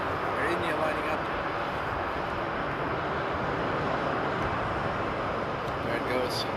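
An Air India airliner takes off at Frankfurt Airport on a frosty day, its engines a steady, broad roar that holds throughout, with a voice talking over it.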